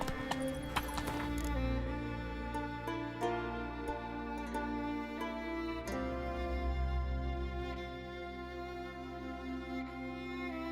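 Hoofbeats from the horse Roach in The Witcher III, a steady clip-clop gallop running under a continuous bed of game music, fairly loud throughout.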